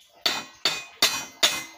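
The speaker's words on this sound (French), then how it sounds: "Je l'ai enfoncé au marteau avant, histoire de le rentrer déjà un petit peu bien comme il faut." Metal hammer blows drive a bearing into a hub on a 1998 Renault Master 2 van during brake disc and bearing work, five sharp ringing strikes at an even, brisk rhythm, close and loud, with no talk.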